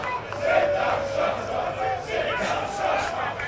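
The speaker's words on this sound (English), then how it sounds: "You can hear it in the crowd of Cardiff Met." Rugby match crowd of Cardiff Met supporters reacting at an outdoor BUCS Super Rugby League game, with a swelling roar of voices and shouts from the stands, with commentators talking over it.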